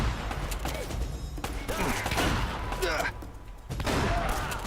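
Gunfire in the video game Uncharted 1 cracks out in rapid bursts over a dense, busy game soundscape, with several sharp shots and impacts packed closely together throughout.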